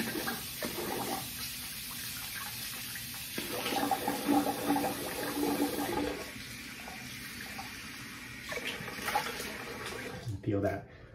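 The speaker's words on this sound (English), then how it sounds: "I'm gonna rinse the face here" Running tap water splashes as a face is rinsed after a wet shave with Proraso Green cream and a Merkur 34c safety razor, close and continuous with brief splashing bursts, someone talking quietly over it.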